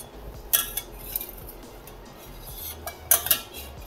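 Cooked umbar (fig) vegetables scooped from a pan onto a steel plate, with several bright metallic clinks and scrapes of utensil on dish spread over a few seconds, close and fairly clear against a low background hum.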